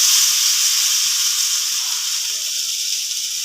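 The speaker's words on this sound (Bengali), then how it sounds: "কড়াই সাদা তেল দিয়ে দিয়েছি, এবার চাউমিনগুলো ভেজে নেব।" Chow mein noodles frying in white oil in a wok produce a strong, steady hiss and sizzle, close and continuous, fading slightly toward the end.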